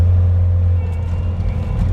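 A skid loader's engine runs with a loud, steady low rumble, holding near idle to a mild rev while parked for snow clearing in a parking ramp, close and continuous.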